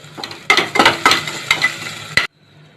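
Onions sautéing with salt and curry leaves in a pan for sambar, a steady close sizzle broken by several scraping stirs of a spatula, then cutting off abruptly.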